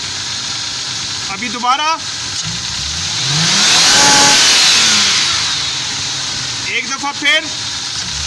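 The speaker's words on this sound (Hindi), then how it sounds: "चलें फुल प्रेस करके छोड़ें थ्रॉटल को।" A car engine being checked for a mass air flow sensor waveform idles, then climbs in a single sweeping rev as the throttle is floored and released and falls back to idle, loud and close, with someone speaking at the start and end.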